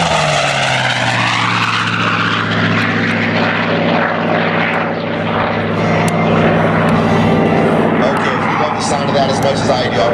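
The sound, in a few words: race airplane Argonaut making a low pass at an airshow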